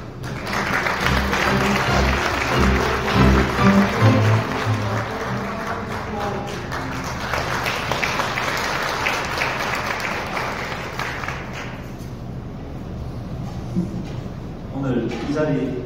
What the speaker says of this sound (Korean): 여러분, 큰 박수와 함께 시장님 가운데로 모시겠습니다.